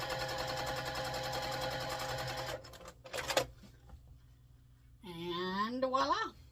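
A sewing machine stitches quilt block pieces together in a fast, steady, close run, then stops with a few clicks and handling noises before a voice speaks.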